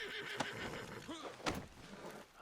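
A horse in the video game Red Dead Online whinnies briefly amid hoof clops and ambient game sounds, fairly faint.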